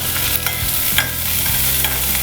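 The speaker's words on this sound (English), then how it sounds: "So immediately we throw in the onions. I love that sizzle." Onions sizzling and frying in a hot pan for a prawn poha, a steady loud crackle broken by stirring scrapes, with no talking.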